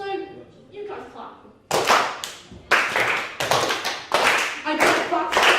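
At a stand-up comedy show, a voice speaks briefly before the audience breaks into loud, sharp claps together in unison, landing in a few distinct bursts.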